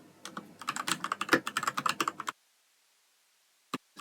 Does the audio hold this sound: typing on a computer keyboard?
yes